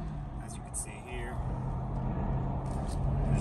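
A 2003 Mercedes SL500 rolls through city traffic, its engine a steady low hum with road and tyre noise building gradually, while someone talks over it throughout.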